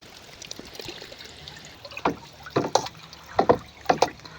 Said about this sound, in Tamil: தாய் திரவம் ஊற்றுறேங்க. ஊற்று சாமி, 1 லிட்டர் ஊற்றுறேங்க